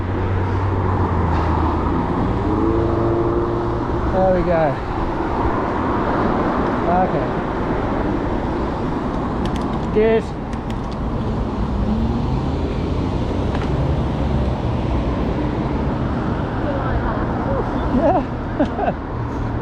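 Evening rush-hour road traffic heard from bicycles riding mid-lane around Kinson, Broadstone and Poole, with steady car and bus rumble, an occasional air-brake hiss, and riders talking briefly throughout.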